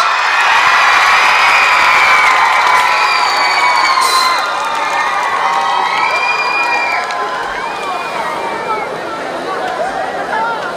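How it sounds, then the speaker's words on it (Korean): A crowd cheers, shouts and claps loudly at the opening-ceremony concert of the 2022 Icheon Ceramics Festival in Korea, a sustained roar of many voices with high shrieks from children and young fans. "여러분의 큰 박수와 환호만이 남았습니다."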